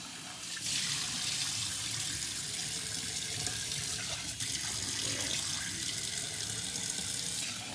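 Cold tap water runs steadily while rice is rinsed to wash out starch, a continuous close splashing rush that stays even throughout with no voices.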